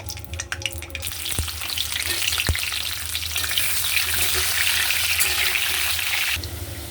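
Potatoes drop one by one into hot oil in a kadai, followed by a steady, rising sizzle that holds close and loud, with a few sharp clinks and a low hum beneath before it briefly drops off.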